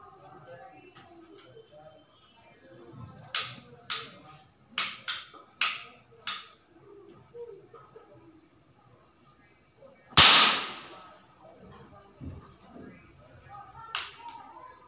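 Small firecrackers are set off one after another during Diwali-time cooking of suji halwa, giving sharp cracking pops in an irregular run, then one louder close bang and a later single crack, over quiet room sounds.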